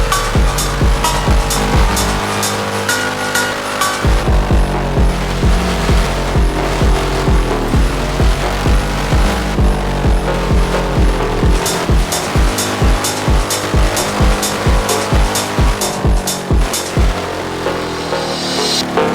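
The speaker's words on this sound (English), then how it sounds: "This is Aston Martin v12. Literally, it is flying." An Aston Martin with a naturally aspirated V12 revs hard while drifting, sustaining a loud, dense engine roar that climbs and falls in pitch through repeated throttle blips and shifts over about nineteen seconds.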